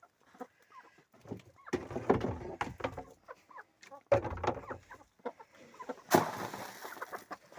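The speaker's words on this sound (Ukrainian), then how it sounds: "Геля, і гуси йдуть сюди." Geese and other farmyard fowl call and cluck in scattered bursts during evening feeding, with people talking nearby and a door or clatter near the end.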